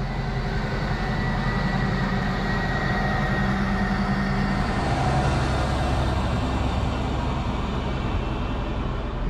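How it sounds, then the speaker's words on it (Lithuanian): A passenger train pulls away on its way to Vilnius, producing a continuous heavy rumble and rolling clatter up close that holds steady the whole time. "Netrukus išvažiuos traukinys į Vilnių"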